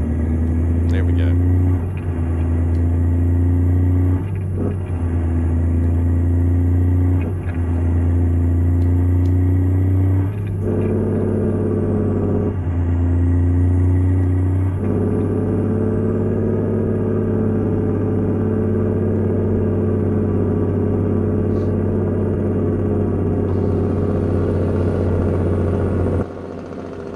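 A 1974 needle-nose Hayes Clipper logging truck labors up a hill, its loud droning diesel engine rising and dropping through several gear shifts before settling into a sustained heavy pull, close and continuous throughout.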